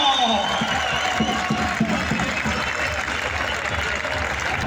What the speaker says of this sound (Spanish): y ahora la afición aplaude a los pilotos